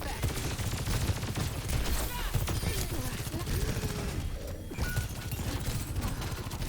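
Sojourn's rapid gunfire in Overwatch 2 rattles continuously through a fight, dense bursts layered with game effects and a voice talking over it.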